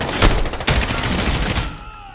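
Gunfire in the video game Modern Warfare played on realism mode, a loud dense volley of shots at close range lasting under two seconds before cutting off.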